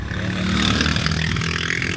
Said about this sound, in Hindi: देखा है ये आवाज़ें मोटरसाइकिलों की, CB70 की।